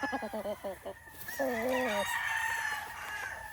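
Gamefowl rooster, a Boston Roundhead and Kelso cross, crowing nearby in a farm setting, with clucking notes first, then one drawn-out crow and fainter calls after.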